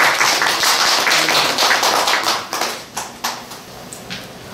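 Audience applauding at a traditional Korean music recital in a small theater, dense clapping that thins into a few scattered claps near the end.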